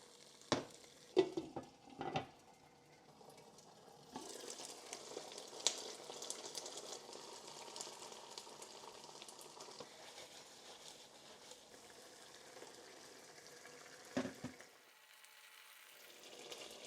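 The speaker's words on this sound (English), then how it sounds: "Don't stir the tofu too much." Mapo tofu with chili bean paste and a cornstarch and oyster sauce mixture sizzles softly in a pan, with a few scraping stirs early and a brief clatter near the end, fairly faint and without talk.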